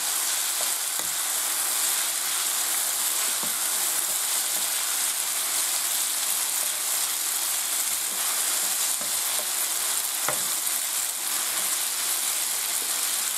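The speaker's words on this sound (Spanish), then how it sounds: "Ahora echamos los espaguetis. Y se remueve bien." Spaghetti being stirred in a pan with garlic and chillies fried until golden, a steady broad sizzle running throughout with a few faint clicks of the utensil, no voices.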